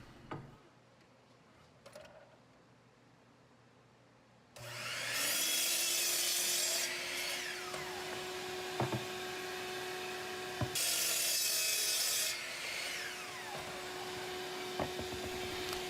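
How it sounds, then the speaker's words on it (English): Miter saw cutting wooden fence pieces to length for a small crosscut sled: the motor spins up loudly, bites through wood for about two seconds, winds down with a whine, then repeats for a second cut, with faint clicks between. "it was over to the miter saw so that I could cut the fence to length"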